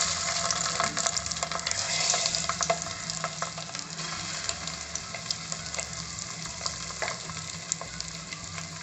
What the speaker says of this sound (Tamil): இப்போ இந்த மசாலா தடவின முட்டையெல்லாம் எண்ணெயில் சேர்த்துக்கலாம்.